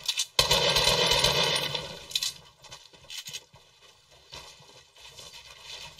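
Rapid bursts of shotgun and SMG gunfire in Fortnite, a dense loud volley at the start followed by sparser scattered shots and clatter, with no talking.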